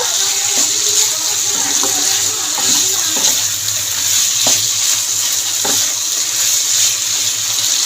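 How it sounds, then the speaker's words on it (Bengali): Katoar stems are stir-fried with spices in a pan, making a steady hiss broken by occasional scraping and knocking from the stirring utensil, close and continuous throughout. "ভালো করে মশলা দিন ডাটাটাকেও কষিয়ে নেব"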